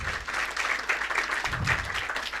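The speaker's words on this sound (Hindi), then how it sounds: "तालियों से स्वागत।" Audience applause at a school merit award ceremony at Swami Shambhugiri Senior Secondary School in Kanwari: dense, steady clapping from a crowd that fills the whole stretch at an even level.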